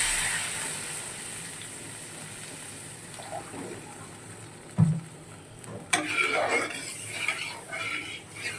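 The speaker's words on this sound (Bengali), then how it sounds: "এবার দেখো পরিমাণ মতন জল দিচ্ছি।" Water is poured into a cooking pan for a fish curry; a quiet kitchen hum gives way to a clank of the pan and then a loud, close gushing splash that continues to the end.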